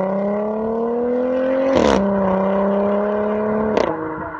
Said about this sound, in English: what you're hearing is as the piston forces the unburned fuel and air mixture out through the exhaust